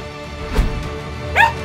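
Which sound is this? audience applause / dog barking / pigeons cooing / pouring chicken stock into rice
dog barking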